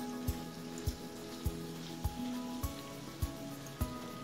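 BBQ sauce marinade simmering in a pot on a stove top at medium heat, giving a steady soft bubbling sizzle with a regular ticking pop roughly every half second, close and fairly quiet.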